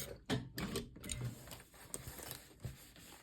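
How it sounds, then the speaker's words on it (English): A sewing machine backstitches a seam on a carryall bag, running in short, quiet mechanical bursts with pauses between them. "Backstitch here at my first mark for my turning opening."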